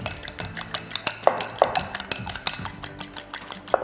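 Eggs beaten with salt, mushroom stock and pepper for restaurant-style fried rice, a utensil clicking rapidly against the bowl in an uneven rhythm of sharp, close taps with a few louder knocks.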